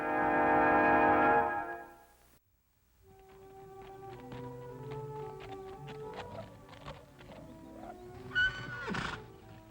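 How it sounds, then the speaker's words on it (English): A wild horse gives a loud, close whinny lasting about two seconds, then softer snorts and hoof clip-clops follow, with a second short neigh near the end. "a great wild horse and the only person on earth who can ride him"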